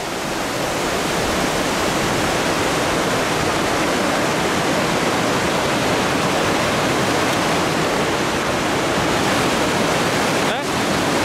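A rushing mountain river near Oetz in the Inn valley, a loud, steady, broadband roar of fast water over stones that fills the whole stretch without a break.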